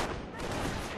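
Faint, distant rattling gunfire from German and American infantry fighting in Company of Heroes: Opposing Fronts, a brief continuous burst of rapid shots heard low in the mix.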